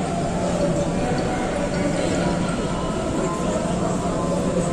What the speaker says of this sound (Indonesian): Oh, itu keretanya.